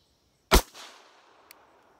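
A single sharp pistol shot at a shooting range, loud and close, with a short echoing tail and a faint click afterward.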